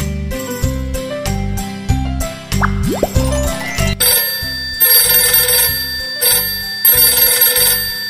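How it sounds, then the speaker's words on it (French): A bright electronic telephone ringtone in a children's French learning video game plays in repeated rhythmic bursts, loud and clear over light game music and plopping effects. "C'est comme un téléphone!"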